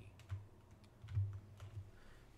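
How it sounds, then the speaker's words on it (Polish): Keypresses on a numeric keypad entering a card amount at a checkout in the Grocery Store Simulator video game, a few soft, quiet taps in an irregular rhythm over a low background hum. "da się wpisywać kwotę z karty na klawiaturze numerycznej"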